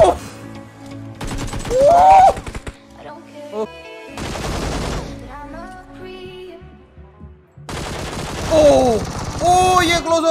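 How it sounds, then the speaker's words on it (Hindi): Bursts of M4 rifle fire in PUBG Mobile come in three rapid volleys, loud and close, with excited talk between the bursts. "एम4 मार रहा है"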